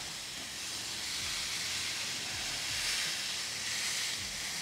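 Tri-tip steaks sear on a Ninja Woodfire grill with a steady, even hiss that holds for the whole stretch and never breaks.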